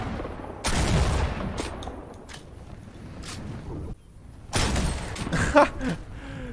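Rapid gunfire in the video game Fortnite: a dense volley up close, a lull with scattered single shots, then another heavy burst near the end.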